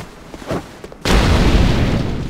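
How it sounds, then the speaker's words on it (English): In Dark Souls 2, a fire bomb lands with a sudden heavy boom after a few quiet thuds, followed by a sustained roaring blaze that stays loud to the end. "Who's throwing fire bombs?"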